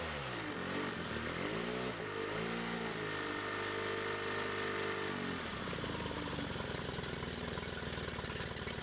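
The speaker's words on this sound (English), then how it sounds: "Once it starts, it really does purr nicely. Very, very quiet running engine." A Yamaha 25 hp four-stroke outboard motor idling steadily with a smooth, even hum, shifting slightly in pitch early on before settling into a constant quiet purr.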